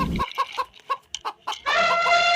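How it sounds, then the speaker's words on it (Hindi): A rooster beside a toy-animal scene gives several short clucks in quick succession, followed by a sustained, loud harmonic call near the end, heard alone without talk. "देखो मुर्गा आ गया"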